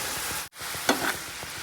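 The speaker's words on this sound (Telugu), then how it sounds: "అల్లం కూడా ఫ్రై చేస్తాను, చూడండి" Steady sizzling of ginger frying in a pan, continuous and close, with a brief drop out and a couple of light clinks.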